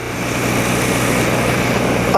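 An old motorbike being ridden on tyres just coated in emollient, its engine giving a loud, steady, unbroken drone from start to finish with no talking.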